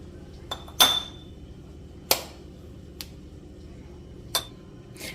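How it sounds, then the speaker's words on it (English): Glass jar clinks and taps as home-made tomato rasam at room temperature is transferred into it in a kitchen: a few sharp, separate clinks spread over several seconds, close by and clear over a quiet background. "We transfer this into glass jar."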